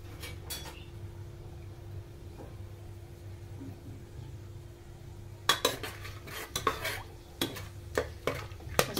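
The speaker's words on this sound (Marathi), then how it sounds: "आता हा मसाला आपल्याला तेलामध्ये टाकायचा आहे आणि थोडंसं याला परतून घ्यायचं आहे" Whole spices stirred in hot oil in a pan, with a soft sizzle beneath a steady low hum, then a run of sharp spoon-on-metal clinks and scrapes in the second half.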